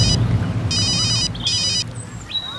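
A telephone bell rings in two sharp bursts, loud and close, with a faint indoor background and no talk over it.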